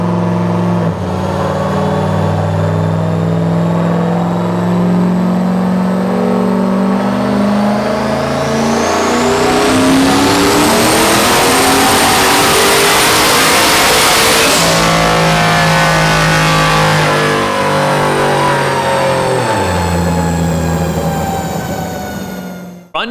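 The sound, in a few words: turbo LS1 Trans Am engine revving on a dyno run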